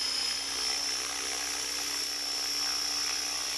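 A Hobby King 600 GT RC helicopter converted to flybarless hovers close by, giving a steady high-pitched rotor and motor whine that stays constant throughout.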